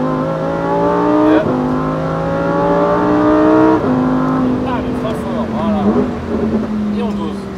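A Lamborghini Huracan STO engine revs hard and climbs through the gears, its loud, harmonic-rich howl rising steadily and dropping sharply at each of several quick shifts, heard from inside the car with people talking over it.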